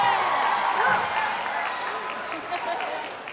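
Audience applause at a cosplay masquerade convention event, a dense wash of clapping with crowd cheering mixed in, loud at first then easing slightly, with voices carrying over it.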